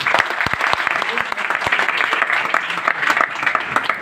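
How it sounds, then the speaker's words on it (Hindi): Loud, dense applause from an audience at a motivational speech, steady and enthusiastic throughout, with a few sharp individual claps standing out near the start. "एक बार जोरदार ताली आप लोगों के लिए।"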